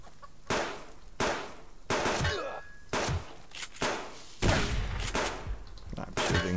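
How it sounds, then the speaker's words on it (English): Gunshots fired at a tree in the survival video game Subsistence, six sharp loud reports spaced roughly a second apart, each with a short trailing thump, over quiet outdoor ambience. "I'm shooting the tree."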